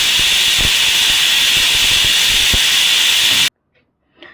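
A pressure cooker cooking legumes lets out a loud, steady jet of hissing steam for about three and a half seconds, then cuts off abruptly to near silence.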